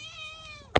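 A single drawn-out cat meow with a clear harmonic tone, close and moderately loud, ending in a brief sharp noise.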